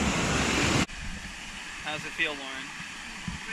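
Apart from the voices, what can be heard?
waterfall at Kerosene Creek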